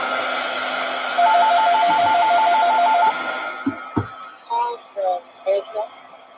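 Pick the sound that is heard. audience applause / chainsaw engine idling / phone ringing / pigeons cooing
phone ringing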